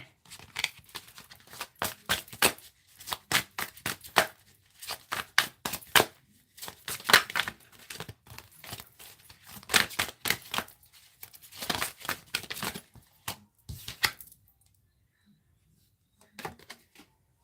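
Tarot cards being shuffled by hand, bursts of sharp riffling flicks and slaps in quick rhythmic runs separated by short pauses, close and fairly loud, fading to quiet near the end with one last small flick.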